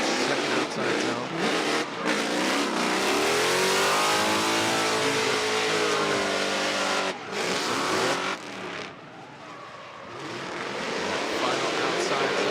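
Ford-powered drift car engine revving hard through the outside zones at a Formula Drift Pro Spec knockout qualifying round, loud and sustained with rising and falling pitch sweeps, a brief dip near the end, then building again.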